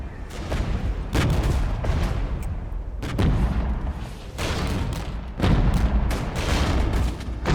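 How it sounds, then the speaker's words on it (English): Mortar impacts and gunfire in the tank battle game Regiments, a dense, continuous barrage of heavy booms and rattling shots with several louder surges of explosions, with no talking. "Mortars are hitting over there."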